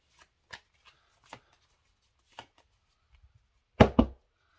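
Pokémon Scarlet and Violet trading cards being handled and shuffled: a few soft, scattered riffle-like flicks, then two louder, dense bursts of card shuffling close by near the end, with no talking.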